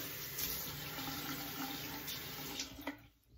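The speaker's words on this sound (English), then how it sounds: "Just doing a final clean with some cold water." Cold water runs steadily from a tap into a sink for a post-shave rinse, a close, continuous splashing hiss that cuts off near the end.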